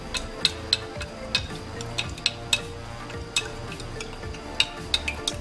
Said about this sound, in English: So I'm gonna just, add it and stir it.